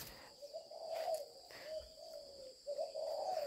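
A breeding pair of caged birds calling in courtship, repeated low, hollow cooing hoots in a steady rhythm, close and fairly clear over a faint background hiss.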